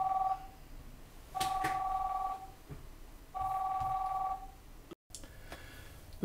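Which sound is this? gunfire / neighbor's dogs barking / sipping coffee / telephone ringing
telephone ringing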